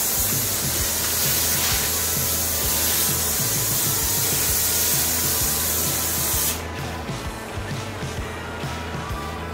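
A cleaning spray is worked over carpeted stair risers and skirting, a loud continuous hissing spray with rhythmic scrubbing strokes underneath that thins out toward the end.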